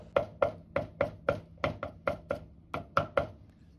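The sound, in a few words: knife chopping garlic and ginger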